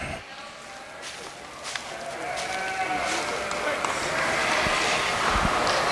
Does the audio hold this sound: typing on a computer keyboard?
no